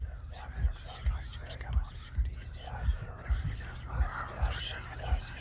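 Eerie whispering in the Minecraft video game, a steady hushed breathy murmur pulsing in short repeated swells over a low droning background, with no clear talk on top.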